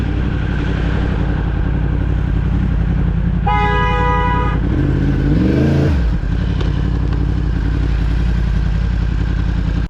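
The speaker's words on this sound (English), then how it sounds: "I heard him honk here" A car horn sounds once in a sustained honk over steady road and engine noise, heard from a motorcycle, followed by a vehicle revving past nearby.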